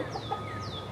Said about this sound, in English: we're very proud of Becky, the chicken